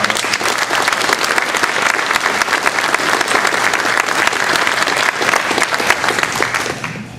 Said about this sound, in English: please join me in applauding these organizations and their outreach beyond us.